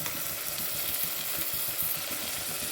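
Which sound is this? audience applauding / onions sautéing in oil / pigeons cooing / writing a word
onions sautéing in oil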